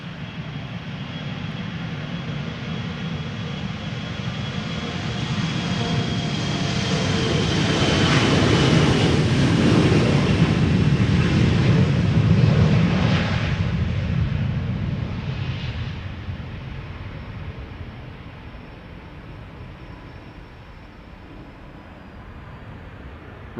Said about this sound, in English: A true, actual, proper KLM Embraer 190.